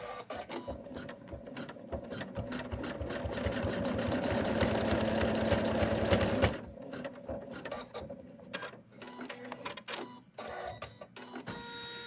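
Embroidery machine stitching a Santa leg in the hoop, a rapid mechanical rattling whir that builds and runs for several seconds, then stops, leaving intermittent shorter buzzes and clicks.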